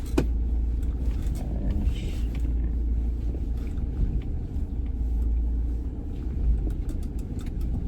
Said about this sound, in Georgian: მანქანა შემოვიდა.